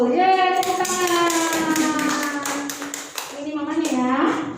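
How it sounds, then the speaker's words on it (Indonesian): Audience applause at a school parents' meeting announcing top students, a steady patter of many hands clapping throughout, with voices and a sustained tone overlapping. "Ya, tepuk tangan."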